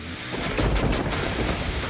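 Thunder from a thunderstorm, a loud, close, continuous rumble that rolls with uneven swells and crackling bursts for about two seconds, with no voices.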